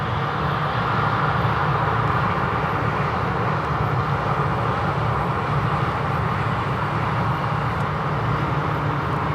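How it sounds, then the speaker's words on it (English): A Cambridge-bound train passes along a line through fields near Arlesey, heard as a steady, fairly loud rumble and roar that stays even for the whole stretch, with no speech. "And there you have a Cambridge train."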